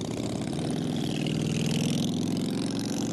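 Motorcycles cruising past on a street in Sylvan Lake, Alberta, a loud continuous engine rumble that holds steady throughout without any speech.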